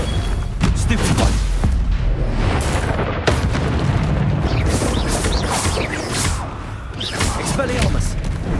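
Spell combat in Hogwarts Legacy, with loud magical blasts, booms and crackling bursts one after another, layered with whooshes and impacts throughout.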